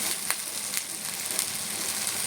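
Spice paste sizzles steadily in hot oil as chui is added while cooking eel, a dense continuous frying hiss with a few faint crackles, close and alone.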